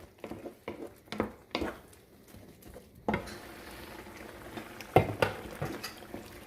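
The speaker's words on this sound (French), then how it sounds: "je mélange tous les ingrédients" Tomato and meatball mixture being stirred in a pan, close scraping and clacking strokes of the spoon against the metal over a low simmering bubble, fairly quiet and without voices.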